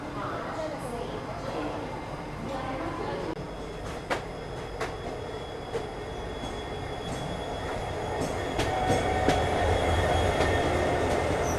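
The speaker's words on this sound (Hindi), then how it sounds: "चलो फाइनली अपना डिपार्चर हो रहा है भोपाल जंक्शन से 5:38 पे।" A special train pulls out of Bhopal Junction, with a steady rumble of wheels and scattered clanks and squeals building louder toward the end, while a voice talks over it.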